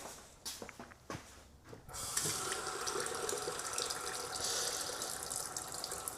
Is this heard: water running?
yes